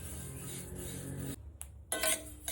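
Sesame seeds crackle and pop as they roast in a hot kadhai, a thin sizzling rustle with scattered clinks that drops out briefly near the middle before flaring up again.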